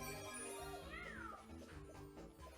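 A cartoonish cat meow from the Super Mario 3D World video game rises and falls once, a short clear call over game music and background sounds.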